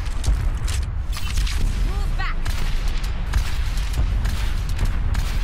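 Fireworks going off in the Overwatch video game: steady rumbling booms and crackling bursts, with a brief rising whistle streaking up midway, a voice briefly heard under the din.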